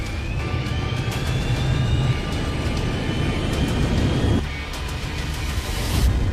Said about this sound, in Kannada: Runway clear. Prepare for takeoff.